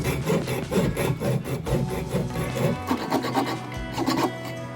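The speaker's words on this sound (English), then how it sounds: "I am going to finish it now with my handsaw." A handsaw rasps steadily back and forth through scrap wood, close and loud, with a fast regular stroke rhythm that keeps going for the whole stretch, pausing only briefly near the middle.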